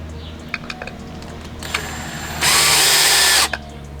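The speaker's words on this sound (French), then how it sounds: "Et on vient visser les vis pour les accoudoirs." A power drill drives screws into the armrests of a wooden garden bench: a few light taps and clicks, then a single loud, steady whirring burst lasting about a second, close by.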